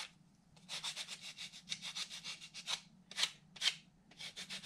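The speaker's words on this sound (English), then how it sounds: "you just sand it" Hand sanding a Dollar Tree rub-on transfer, rapid back-and-forth rasping strokes in bursts with short pauses, close and quiet over a low steady hum.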